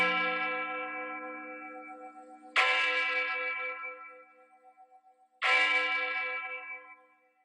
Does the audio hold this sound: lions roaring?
no